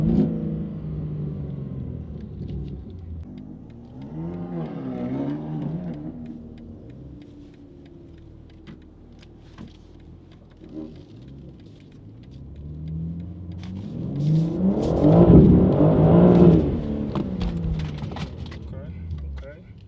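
A one-of-one Individual BMW G80 M3 revs hard with its wheels spinning, the engine building to a loud, rowdy burst near the end after a lower rumble, while voices talk over much of it.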